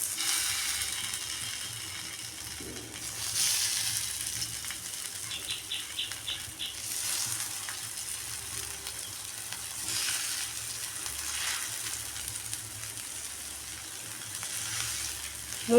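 Pieces of taro root (karunai kizhangu) frying in oil on a dosa pan, a steady close sizzle with crackling bursts that swell and fade, and a brief ratcheting rattle partway through; no talking.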